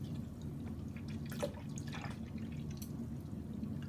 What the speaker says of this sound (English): go ahead and get your Welch's passion fruit juice and pour that right in there until you like it